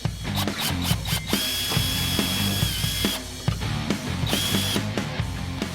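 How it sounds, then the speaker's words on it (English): A power drill boring a small pilot hole through the weather strip of a 1969–1970 Ford Mustang door, close and loud, with short bursts of whirring and brief pauses between them. "We're going to drill a small pilot through our weather strip."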